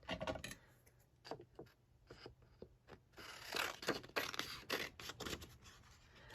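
Scissors cutting scrapbook paper for handmade paper bags: a series of sharp, close snips and crisp paper rustles in irregular bursts, fairly quiet, with no talking.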